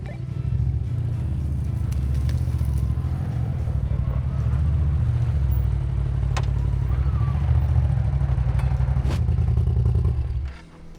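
A RZR side-by-side rolls down a steep mountainside off-trail, its engine a steady loud low rumble close by, with scattered clatter and scrapes over it before it cuts off abruptly at the end.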